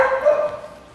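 A dog in a dog cafe lets out a single short bark trailing into a whiny yelp, close and fairly loud, with no talk over it.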